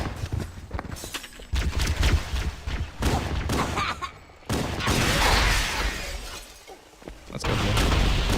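Loud explosive blasts and crashing impacts from a rocket launcher in Halo: Combat Evolved, several bursts spread across the stretch with shattering debris and brief pauses between them, no voices.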